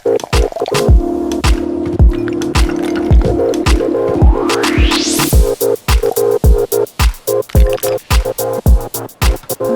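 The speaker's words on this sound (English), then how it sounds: "Pour it over fresh crushed ice and top with sparkling lemon water." An elderflower mocktail is poured over fresh crushed ice and topped with sparkling lemon water, a liquid stream rising in pitch as the glass fills, set against a steady rhythmic music backing.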